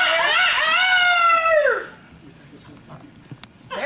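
A loud rooster crow, a long rising-then-falling cock-a-doodle call, apparently voiced by a performer imitating the bird during a stage comedy skit parodying Our Town, followed by quieter room noise.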